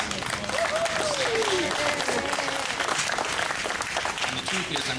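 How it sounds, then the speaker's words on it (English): An outdoor crowd at a libation ceremony honouring ancestral graves gives a sustained round of applause, dense and continuous, with a voice calling out over the clapping. "Let's give Joe Sertain a big round of applause."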